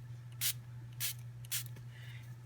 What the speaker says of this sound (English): we have our water spritzer, and we're just going to spray on here.